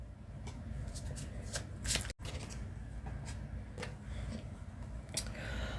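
Someone shuffles a Soul Truth Self-Awareness oracle card deck up close, with quiet, repeated riffling and soft card slaps in a hushed room and no talking.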